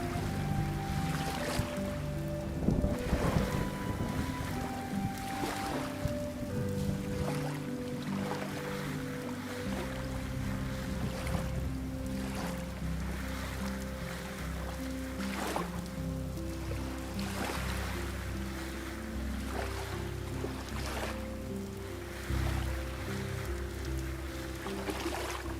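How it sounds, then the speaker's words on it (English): Gritty swishing and sloshing of panning for copper nuggets in Vintage Story repeats in soft rhythmic strokes over a watery ambience. A low musical drone plays underneath, and no voices are heard. "I kind of like the noise of the panning"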